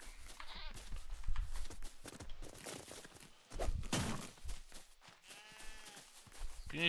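A sheep bleating in the Fortnite video game, several wavering bleats mixed with footsteps and game noises, with a quavering bleat toward the end, heard faintly with some talk nearby.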